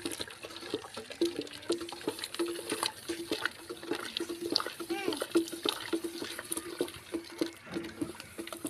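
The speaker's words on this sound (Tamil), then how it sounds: "இப்படி இன்னும் தண்ணி ஊற்றி இதை கரைச்சி ரவி சேர்த்துக்கலாம்." Water poured into a semolina mixture for Aadi Velli seer kanji in a home kitchen, soft splashing and trickling in uneven bursts beneath someone speaking throughout.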